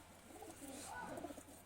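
A restless Madrasi pigeon gives faint, soft cooing close by against a low background hum.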